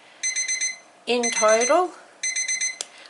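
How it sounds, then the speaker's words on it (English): A kitchen timer alarm beeps in two rapid repeating bursts of high electronic tones, with a person talking loudly between them during a gel nail polish soak-off. "And there goes my timer"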